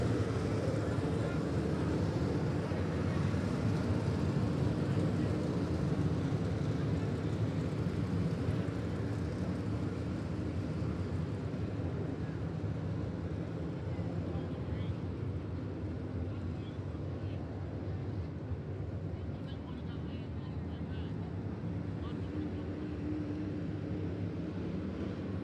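Modified race cars circle the Jacksonville Speedway track under a yellow flag, a steady, continuous engine drone with a broad roar that holds for the whole stretch, slightly easing later on.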